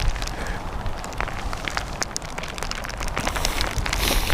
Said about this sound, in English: rain is getting heavy.